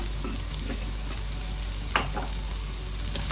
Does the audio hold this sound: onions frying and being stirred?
yes